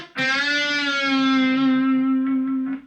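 An electric guitar phrase in the style of a country rock song, played without a wah pedal: a single sustained, bright, slightly overdriven note ringing for nearly three seconds, close and loud with no voices.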